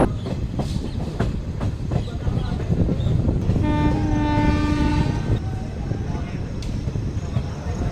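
A train arrives at Nainpur Junction, India, with rumbling wheels and clattering over the rails, a long horn blast sounding midway through the noisy approach.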